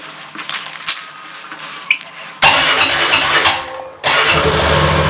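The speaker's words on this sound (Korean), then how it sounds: "시동을 걸고 지금 N단, 중립이기 때문에 N단인데" Honda CT125 Hunter Cub motorcycle engine being started: quiet clicks and handling noise, then the engine catches with a loud close burst, dips briefly, and fires up again into a steady running rumble.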